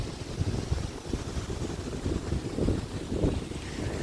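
Strong wind on the Odesa seafront buffeting the microphone, a continuous low rumbling roar with gusty surges, no voices.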